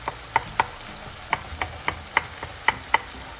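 Seasoned ground beef frying in a pan, stirred with a utensil that gives sharp, evenly spaced scrapes and taps over a steady close sizzle, with no one talking.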